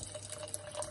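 A splash of water poured into a saucepan of honey on low heat, a brief, soft, steady trickle heard close with no talking.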